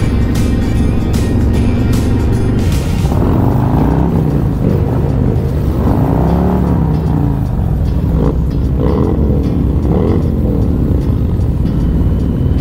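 Loud motorcycle engines roar close by as they ride past in a steady stream on a Toys for Tots charity ride in Charlotte, their pitch rising and falling with each pass.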